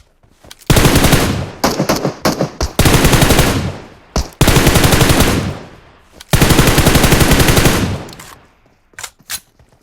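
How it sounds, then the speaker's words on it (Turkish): Long, loud bursts of automatic gunfire from a bot in PUBG Mobile, several sustained volleys separated by short pauses and ending in a few scattered single shots, close and dominating. "Arkada bot sıkıyor."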